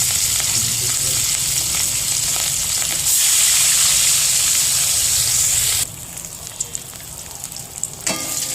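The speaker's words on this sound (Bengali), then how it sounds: "এরকম করে একে একে সব কটা মাছ ভেজে নেবো।" Fish frying in oil crackles with a loud, continuous sizzle that swells even louder midway, then drops back to a quieter bubbling with a few sharp pops.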